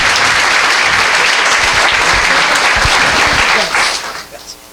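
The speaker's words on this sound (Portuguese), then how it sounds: "os nossos aplausos" Loud, dense applause from an audience welcoming Professor Moacir da Costa de Araújo Lima at an evening lecture, sustained clapping with a few thumps, fading out over the last second.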